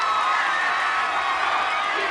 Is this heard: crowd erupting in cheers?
yes